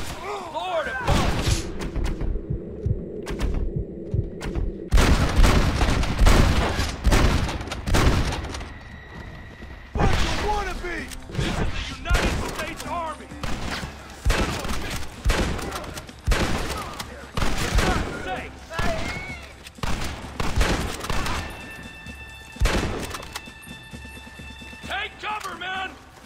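Gunfire from the Red Dead Redemption video game cracks in dense, irregular volleys of close, loud shots during a gate assault. Voices shout between the bursts, and hooves clatter in places.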